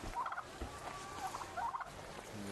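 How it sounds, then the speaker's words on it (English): Guinea fowl call in quick bursts of harsh, chattering cackles, fairly faint and a little distant, repeating several times over a quiet background, in Manica, Mozambique. "Guinea fowl."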